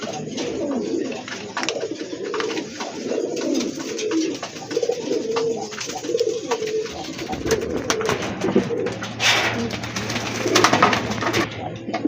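A pair of large Bombay pigeons coo steadily and repeatedly in a pet-pigeon sale setting, their low, rolling calls filling the whole stretch at close range with a few brighter rustles and flutters.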